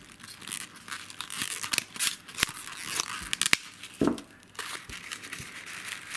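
Crepe paper is twisted into a paper rose and tears. Close, faint crinkling and rustling runs throughout, broken by several sharp crackles and ripping snaps.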